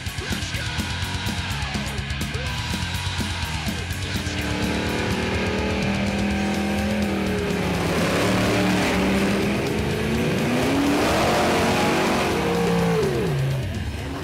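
Race cars roar past on a track with rising engine revs and sweeping pitch changes, a loud, continuous rush of motor noise that builds toward the end.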